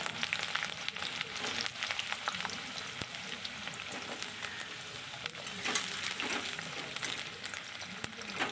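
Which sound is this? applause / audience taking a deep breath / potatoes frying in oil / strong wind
potatoes frying in oil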